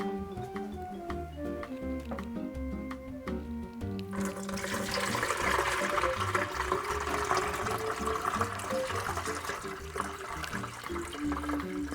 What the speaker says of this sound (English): let's take it on over to the sink and let's strain it off